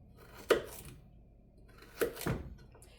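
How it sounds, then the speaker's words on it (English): A knife chops through long, fresh, crisp carrots in two quiet, distinct cuts about a second and a half apart, close by in a home kitchen. "These ones are pretty long, these carrots, so I have to cut them in half."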